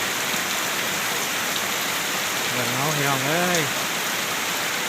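Heavy rain pours down in a steady, dense hiss that fills the whole scene, while a voice speaks briefly over it midway through.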